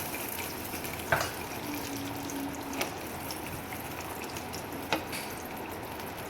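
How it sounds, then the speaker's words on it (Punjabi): Desi ghee heats in a pan for tadka while cooking Rajasthani-style besan gatte sabzi, giving a soft, steady sizzle and hiss with a few sharp clicks of utensils. "ਹੁਣ ਆਪਾਂ ਪਾਣ ਲੱਗੇ ਆਪਾਂ ਦੇਸੀ ਘਿਓ ਦਾ ਇੱਕ ਚਮਚ"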